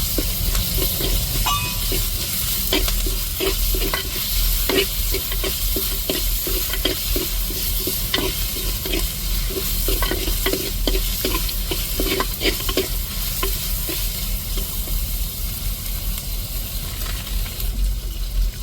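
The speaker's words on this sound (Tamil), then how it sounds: "அம்மியில் அரைச்ச இஞ்சி பூண்டை நல்லா தாளிப்பில் வதக்கி விட்டுக்குருவோம்" Stone-ground ginger garlic paste sautés in hot tempering oil, a loud continuous sizzle broken by repeated scraping stirs of a spoon against the pan, with no voices.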